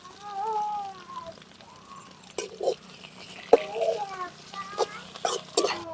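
Tapioca fries in a pan while a spoon stirs it, with soft sizzling and intermittent metallic scrapes and clinks. Quiet speech and a faint hum sit underneath.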